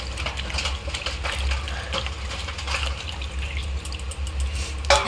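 Cut ridge gourd pieces washed in water while cooking fish curry, continuous splashing and trickling with scattered drips and clinks throughout, close and moderately loud, no talk.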